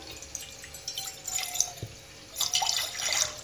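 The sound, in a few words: water being poured into a pan for tea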